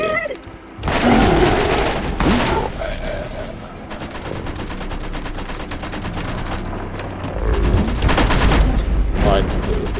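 Gunfire in the Borderlands Zombie Island video game: dense bursts of rapid shots and booms running through most of the clip, loudest near the start and again toward the end, with a voice talking between them.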